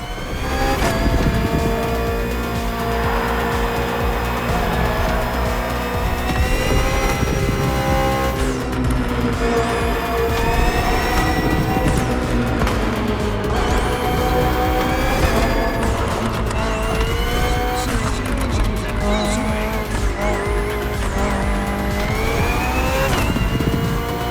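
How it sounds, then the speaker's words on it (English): BMW M Hybrid V8 endurance race car in The Crew Motorfest, its engine loud and close. It revs hard through repeated upshifts, with rising and falling pitch sweeps, snarling bursts and some tire squeal, and no talk. "The BMW M Hybrid V8. What a beast."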